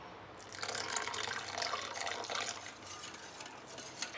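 Water pours into semolina dosa batter in a bowl, a steady close trickle and splash lasting a couple of seconds before fading to a softer drip, with no talking.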